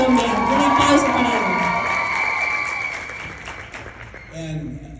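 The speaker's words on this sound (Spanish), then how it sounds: "Un aplauso para" A crowd at a leadership summit in Colombia bursts into applause and cheering, with loud whoops and shouts over clapping that slowly fade, and a voice speaking briefly near the end.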